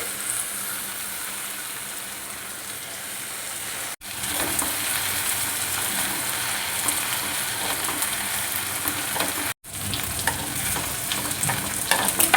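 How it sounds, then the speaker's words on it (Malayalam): Drumstick leaves and softened onions are stirred in a frying pan for a Kerala thoran, giving a steady, close sizzle with scraping and two short breaks, no talking. "അങ്ങനെ നമുക്ക് ഇളക്കി കൊടുക്കാം"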